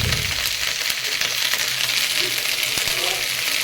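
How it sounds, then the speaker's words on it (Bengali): Okra (bhindi) is lightly fried in hot oil for bhindi do pyaza, giving a steady, close sizzle with a faint stir or clink of the pan. "ভেন্ডিগুলো হালকা করে ভেজে নেব যাতে সবুজ রঙটা না চলে যায়।"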